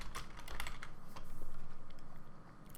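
Typing on a computer keyboard, a quick run of close, crisp key clicks tapping at an even pace for a few seconds with no speech.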